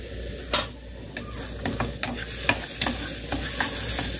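Beans already cooked with garlic and salt simmer in a pot on a home stove while more seasoning of salt, garlic, onion and lard goes in, giving a soft, steady sizzle with scattered scraping stir clicks and small knocks.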